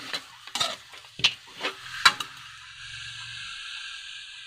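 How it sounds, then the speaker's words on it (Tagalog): Roasted pork being stirred as it fries in a pan, with several sharp spatula scrapes and clinks over a sizzle, then a softer, steady frying hiss that continues on its own. "At siyempre, halo-haloin natin."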